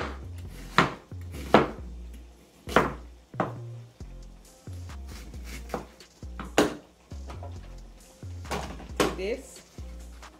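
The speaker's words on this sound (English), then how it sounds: "What you do is cut your onion." Knife chopping an onion on a board, sharp close thuds in an irregular rhythm with a few pauses. A voice talks over it.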